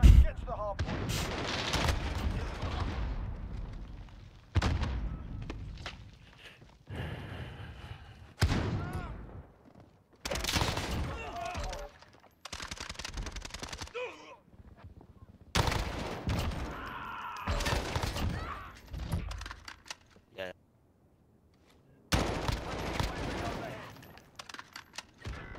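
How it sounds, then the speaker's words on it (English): Rapid gunfire bursts and heavy shots from Call of Duty multiplayer ring out in loud clusters separated by brief pauses, with a player talking over much of the action. "He unscopes, flicks up into the sky,"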